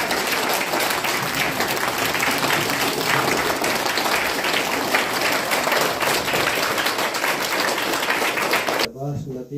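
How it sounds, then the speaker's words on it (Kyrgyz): An audience at a Kyrgyz gathering applauds its supporting sponsors with dense, steady clapping that fills nearly ten seconds, then cuts off as a voice speaks briefly at the end. "агайларыбызга ошол бизди колдогон демөөрчүлөргө бир кол чаап коелу"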